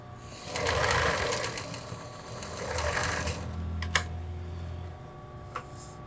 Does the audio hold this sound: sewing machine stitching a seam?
yes